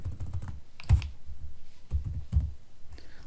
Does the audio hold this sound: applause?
no